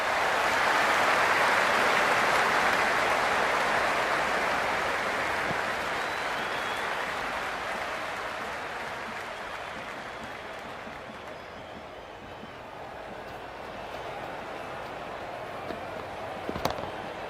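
At an IPL cricket match between Punjab Kings and Lucknow Super Giants, a stadium crowd applauds and buzzes in a broad, loud roar that slowly eases to a lower murmur, with one sharp crack near the end.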